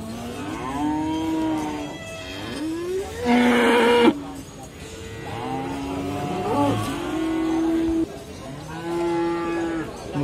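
Limousin cattle at an Indonesian livestock market moo repeatedly, several loud, drawn-out calls from nearby animals, with a burst of engine-like noise and faint background chatter between them.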